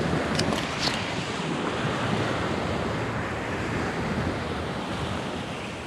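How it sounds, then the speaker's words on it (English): Waves wash onto a beach in the US Virgin Islands, a continuous surf hiss mixed with wind buffeting the microphone, fairly close, with no voices. "we're gonna sit back and we're gonna enjoy this beautiful beach"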